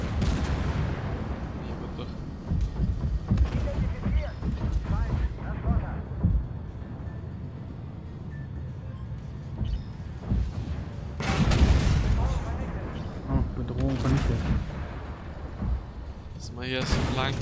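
Heavy tank cannon fire in the online game Armored Warfare with a T-80 in a harbour capture match: several deep booming shots spaced apart among rumbling engine noise, with someone talking over much of it.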